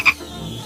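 A surprise egg toy frog lets out a short, close croak, followed by a brief faint click-like sound, with no talk.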